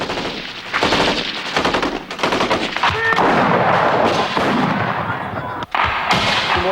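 Sustained bursts of machine-gun and rifle fire erupt after a shouted fire command during a military fire-and-movement exercise, loud and rapid, with brief gaps and a near shot standing out late on.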